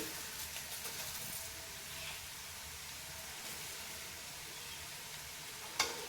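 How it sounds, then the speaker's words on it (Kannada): Mustard seeds and cumin fry in hot oil, giving a faint, steady sizzling hiss with soft scattered crackles and one brief sharp pop near the end. "ಸಾಸಿವೆ ಕಾಳು ಚಟ್ ಚಟ್ ಚಟ್ ಚಟ್ ಅಂತ ಬರೋವರೆಗೂ"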